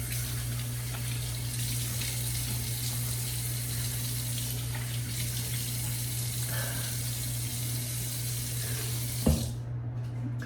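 Tap water running into a sink while a face is wetted before shaving: a steady close rush of water with a low hum beneath, then a brief knock just before it cuts off.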